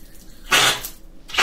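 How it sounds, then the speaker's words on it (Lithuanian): Water gushes in two short bursts from a newly installed shower mixer during a renovation that turns a shower cabin into an open tiled shower, loud and close with a hiss between the bursts. "Ir užsisukam maišytuvą, iš kurio pasiduos vanduo į dušą."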